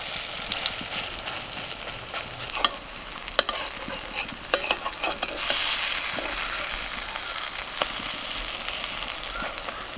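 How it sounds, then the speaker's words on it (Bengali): Water hyacinth flower fritters sizzle and crackle in hot oil over a low flame, a steady frying hiss with scattered sharp pops and occasional stirring clatter, close and continuous without speech. "বড়াগুলোকে এইভাবে একটুখানি লাল লাল করে ভেজে নিয়েছি,"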